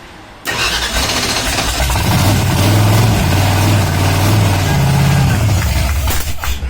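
A Ford Ranchero's engine cranks and catches after a firing-order change, then revs loudly and settles into a rough, close idle with no talking over it.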